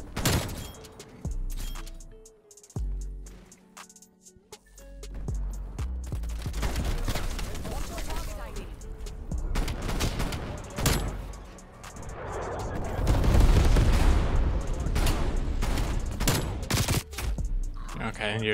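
Gallo SA12 shotgun fire in a first-person shooter match, a rapid string of loud, close blasts mixed with other gunfire and game effects, with a voice talking over much of the action.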